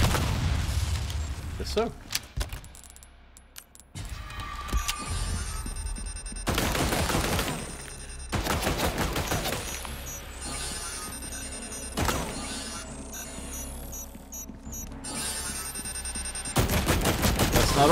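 Gunfire in the Resident Evil 4 Remake game: several sharp, loud bursts of shots spread unevenly among tense game sounds, with a player talking between them.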